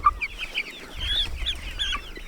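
Clucking from several black, speckled Polish chickens, a run of short, bright calls close by over a low rumble of handling noise.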